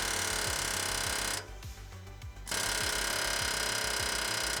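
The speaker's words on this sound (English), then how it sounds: "I just used a socket that fit on it and the air hammer just to push it in." An air hammer drives a sway bar bushing into place on a van, a loud rapid continuous rattling that stops for about a second before resuming, close up.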